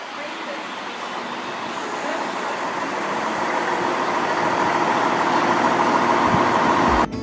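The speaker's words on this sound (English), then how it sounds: "So our train should be arriving now" A train rumbles into Attenborough or Beeston station in England with a broad, rising roar that builds steadily, then cuts off abruptly near the end.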